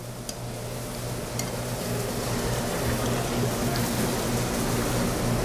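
Saffron potatoes sizzle steadily in a hot pan in a restaurant kitchen, a continuous close frying hiss with faint clinks over a low kitchen hum.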